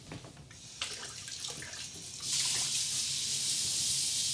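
Hot water runs from a kitchen tap while a gluten-free chocolate lava cake is being made, starting with a few splashes and then settling into a steady, close hissing flow.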